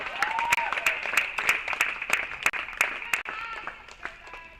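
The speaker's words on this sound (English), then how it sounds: "You hear the crowd in the background." Crowd applause and clapping bursts at a college women's tennis match, sharp claps in uneven rhythm under steady background chatter, with an announcer talking over it.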